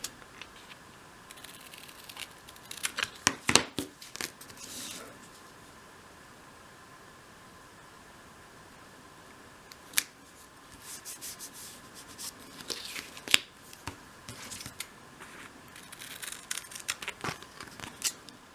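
Scissors trim card for a 1/12th scale dollhouse wardrobe, with bursts of close snipping and rubbing separated by quiet pauses and no voices.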